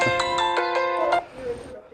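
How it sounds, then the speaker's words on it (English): A mobile phone rings during a seminar talk on cleantech investing, a series of evenly spaced bright tonal chirps repeating for about a second before cutting off, heard close and clear with a faint room hum beneath. "there's my phone that I should have turned off, Leslie"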